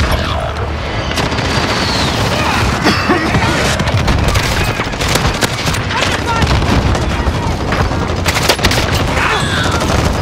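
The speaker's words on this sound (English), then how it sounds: "Enemy precision airstrike." In Call of Duty Warzone, a precision airstrike lands as a loud, dense barrage of booms and gunfire-like blasts that goes on for the whole stretch, with voices partly heard underneath.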